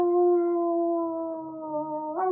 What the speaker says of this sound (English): hear the howling of wolves